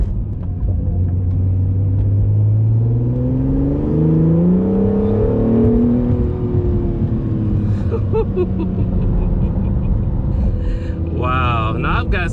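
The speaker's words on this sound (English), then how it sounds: "look at some nice POV driving as if you're sitting in the driver's seat to know exactly what it would feel like to drive the NSX" An Acura NSX heard from the driver's seat on the road, a steady loud engine drone rising and falling in pitch through the gears, with a voice briefly heard near the end.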